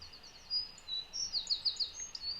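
A small songbird delivers a quick series of high, thin chirping notes in a spring setting, clear but fairly soft against quiet background, the phrases rising and falling over a couple of seconds.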